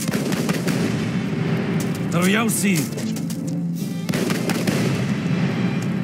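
Explosions and crackling gunfire from the Age of Empires III video game sound in repeated bursts, with a voice speaking briefly over the battle noise midway.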